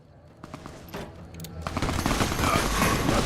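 Rapid automatic gunfire and scattered shots in Fallout: New Vegas, starting sparse, then swelling into a dense, loud, continuous fusillade with no talk over it.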